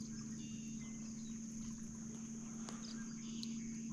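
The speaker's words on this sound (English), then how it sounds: "I hear a big boat moving around the bend of this river." A low, steady drone of a big boat moving somewhere along a tidal river, distant and faint, holding evenly with a soft hum over the quiet water.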